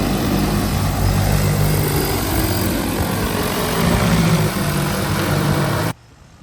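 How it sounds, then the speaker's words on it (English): A steady, droning rotor buzz of an agricultural spraying drone hovering nearby over farmland, loud and constant, cutting off abruptly near the end. "Is this a good birthday present? Drone spraying?"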